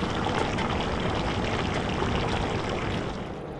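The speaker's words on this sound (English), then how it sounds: "As the dish is nearing completion, you can add the chickpeas in there" Chickpeas going into a cooking dish at a beach campsite make a steady, close rush of pouring and splashing that holds evenly, then eases slightly near the end, with no talking.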